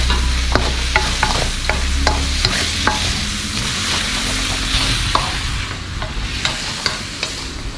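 Pad thai stir-fried with bean sprouts and chives, loud close sizzling under a run of rhythmic spatula scrapes and clacks against the pan, continuous with no talk.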